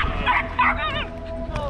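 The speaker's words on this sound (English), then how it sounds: "Cute dog." Two or three quick, high-pitched yips from a dog outdoors at a family gathering, followed by a fainter whine, loud and close against background murmur.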